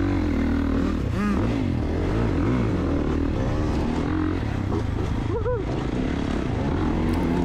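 A small KTM 85 dirt bike rides a rough motocross track, its engine revving and rising and falling in pitch as it approaches, heard over constant loud wind and engine rumble from a nearby rider.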